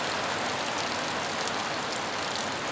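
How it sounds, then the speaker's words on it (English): Heavy rain pelts down on a camper van during a massive storm, a dense, steady, loud hiss and patter of drops on the roof that runs unbroken throughout. "but it's pelting down."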